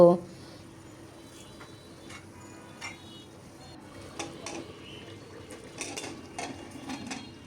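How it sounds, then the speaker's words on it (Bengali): A pressure cooker lid is fitted and closed over meat curry, giving a series of metallic clinks, scrapes and clicks that grow busier toward the end, amid quiet kitchen background. "প্রেশার কুকারের ঢাকনাটা লাগিয়ে আমি পাঁচটা সিটি বাজতে দিব"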